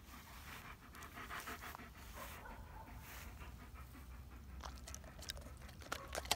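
A dog pants rapidly and steadily close by, a continuous breathy rhythm with a few faint clicks near the end.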